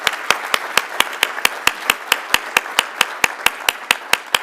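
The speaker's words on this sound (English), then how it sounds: "We'll have to give them a really loud round of applause." Sharp, evenly spaced claps repeat about four times a second for the whole stretch, a crisp and close rhythmic clapping at a celebration event held at the Hanover Inn, with no voices over it.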